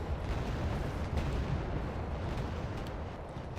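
Artillery shells bursting in the war strategy game Wargame: Red Dragon, a dense, continuous rumble of overlapping explosions with heavy low-end booms, loud and sustained without letup.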